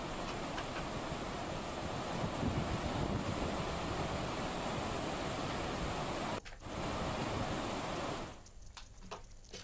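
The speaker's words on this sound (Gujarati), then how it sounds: "ઓસમ ડુંગર ધોબી પાટનો અદભુત ધોધ વહ્યો છે" The Dhobi Pat waterfall on Osam hill pours after heavy rain, a loud continuous rushing roar with gusts of wind buffeting the microphone, briefly cut and then dropping away near the end.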